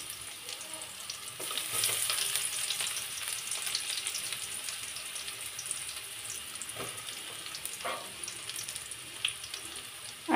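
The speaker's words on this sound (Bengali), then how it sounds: "সব কিছু একসাথে একটু ভাজি ভাজি করে নিতে হবে।" Chopped garlic and onions fry in oil with a bay leaf, making a steady close sizzle with occasional stirring scrapes and light clatter, loud and continuous without speech.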